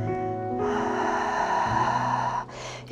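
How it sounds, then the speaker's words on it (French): A person draws one long, deep inhale through the nose or mouth during a Swiss ball exercise routine. The breath lasts nearly two seconds over a steady tonal background, then eases off. "J'inspire."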